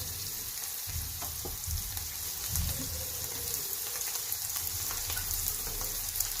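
Buttered bread slices toasting in a pan over a slow flame, giving a steady soft sizzle and crackle that holds at an even level throughout, with faint scraping and no talking.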